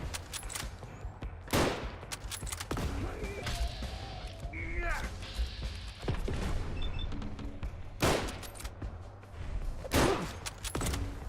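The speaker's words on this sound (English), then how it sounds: "Next up is the service rifle." Service rifle gunfire in the video game Fallout: London, several sharp loud shots spaced a few seconds apart, mixed with game sounds and grunts.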